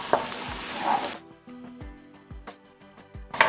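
Paste of green chili, garlic and ginger dropped onto softened onions in a hot pan for rava upma, a loud sizzle that suddenly drops off, followed by several light spoon taps and scrapes from stirring.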